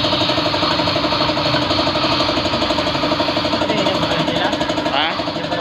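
A Toyota Fortuner torque converter with a faulty bearing or gear runs on a bench, producing a loud, steady rumbling drone with a rapid pulsing rattle, close by, easing off slightly near the end.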